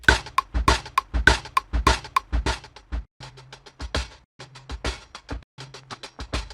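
Chopped soul sample prepared for a drum part, short rhythmic stabs repeating in a choppy pattern, moderately quiet and heard on its own.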